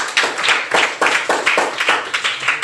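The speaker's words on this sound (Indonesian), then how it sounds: "Oke, tepuk tangan dulu ya." Classroom clapping by a group of students, a steady run of rhythmic claps in about five even bursts, close and lively, with no talk over it.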